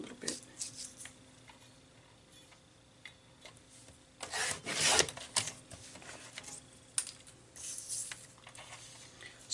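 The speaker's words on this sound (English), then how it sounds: "Trim this down a little bit." Paper is trimmed for a scrapbook, with close soft rubbing, sliding and scattered ticks, and a louder burst of cutting and scraping midway.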